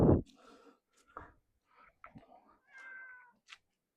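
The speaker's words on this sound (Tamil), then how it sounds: "உன் ஃபோனில் தான் பூனை கத்துதா?" A cat-meow ringtone goes off on a phone, giving a few short separate meows and mews across a few seconds, with quiet rustling and faint handling noise between the calls.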